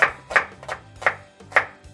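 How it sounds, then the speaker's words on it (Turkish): A knife chops an onion on a cutting board in five crisp, evenly spaced strikes, close and clear with no talking. "şimdi bir tane soğanımızı doğruyoruz"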